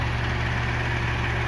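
A 1945 Oliver 60 row crop tractor engine runs at a steady idle, a continuous low, throbbing drone that stays even and close for the whole moment.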